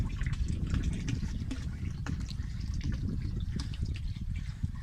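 A calf drinks water at a cattle farm, with faint wet slurps and trickles over a dense, constant low rumble.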